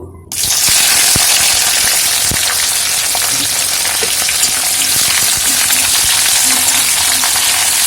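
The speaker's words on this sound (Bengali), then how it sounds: "পেঁয়াজটাকে হালকা বাদামি করে ভেজে নেব" Loud, steady sizzling of onions frying in oil, a dense crackling hiss that starts abruptly and continues close up, with occasional light clinks.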